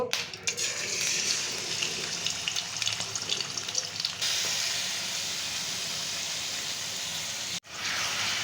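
Chicken pieces rubbed with salt and turmeric frying in a pan, a continuous hissing sizzle with a brief break near the end, close and fairly loud, no talking.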